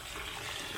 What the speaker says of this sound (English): This is the Bolocboloc spring water, which serves as the people, as the locals, natural drinking water